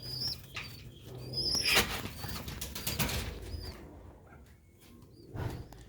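Pigeons flap their wings in a quick, faint flutter, with soft chirps and calls around them, in a quiet bird-keeping setting in Sialkot.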